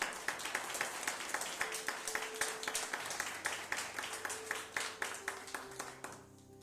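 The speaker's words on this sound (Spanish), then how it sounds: "Dele a Dios ese aplauso" A church congregation clapping at a sermon, a rhythmic, steady clapping in a regular beat, moderately distant, with a held musical tone underneath.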